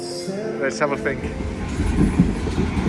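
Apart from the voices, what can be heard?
Indian Pacific passenger train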